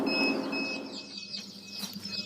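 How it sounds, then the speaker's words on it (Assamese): Freshly hatched local chicken chicks inside an automatic incubator, a dense chorus of high, thin peeping chirps that carries on without pause over a low machine hum. "মোৰ ইনকুবেটৰ মিচিঙত আজি পোৱালি ওলাই আছে, লোকেল মুৰ্গীৰ পোৱালি"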